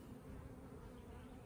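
A swarm of honey bees buzzes steadily and close, a dense continuous drone with no voices, filling the whole moment at low volume.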